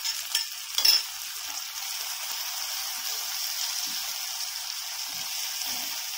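Chicken gizzards dropped into a hot pan, a brief clatter followed by a steady hiss of frying that carries on alone, close and moderately loud.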